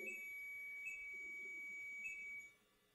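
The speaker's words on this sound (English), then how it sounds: "make that beeping sound again" A steady high electronic tone sounds continuously, with faint pulsing beeps, before cutting off abruptly near the end.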